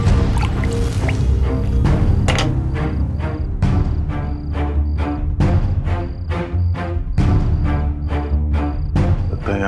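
Acid drips steadily into a growing pool at a crime scene in a CID crime TV episode. The drops come in a loud, close, regular series of wet plinks over a dense liquid wash.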